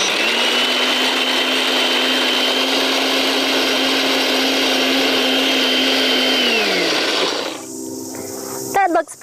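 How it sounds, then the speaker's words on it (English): A low-powered kitchen blender grinds almonds into flour with a steady, loud whirring whine for about seven seconds, then spins down, followed by a short rattle at the end. "So now I'm going to blend the almonds"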